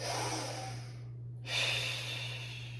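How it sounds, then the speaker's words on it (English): A single deep, audible breath during a Pilates hip stretch: a long airy exhale, a brief pause, then a fuller inhale, close and clear over a faint steady hum. "Holding for one more deep breath here."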